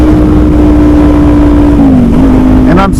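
A 2021 Kawasaki Z400 400cc motorcycle engine drones loud and close at a steady pitch, with the note dipping briefly and then climbing again near the end, with a rising whine.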